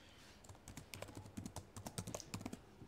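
A run of keystrokes on a computer keyboard, quick close clicks in an uneven rhythm of roughly twenty taps, fairly soft and alone with no talk.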